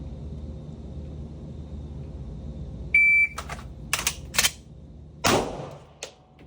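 A shot timer sounds a single sharp electronic beep to start a pistol drill, followed by several quick mechanical clacks as the pistol is loaded and chambered, then one loud close gunshot and a last small click.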